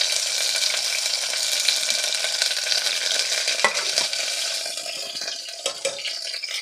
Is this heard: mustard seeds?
yes